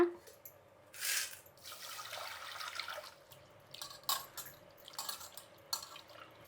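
Moong dal being rinsed in water at a kitchen sink, with splashing and trickling bursts and dripping sounds recurring through the clip at close range.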